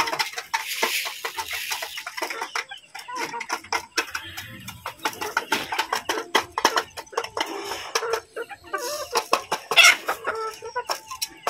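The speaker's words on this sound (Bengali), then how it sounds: "তো দেখতে পাচ্ছেন আমার এই মুরগিগুলা কি সুন্দর শান্ত, আর মোরগ দুইটা দেখেন কেমন" Caged native hens cluck steadily in a close cluster, with sharp calls and squawks from two roosters cutting through in busy, overlapping bursts.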